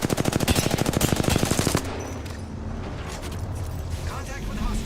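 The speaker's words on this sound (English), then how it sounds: "They're shooting at me. Taking fire." Rapid automatic gunfire in a shooter video game rattles in a fast, loud burst for nearly two seconds, then gives way to quieter game ambience.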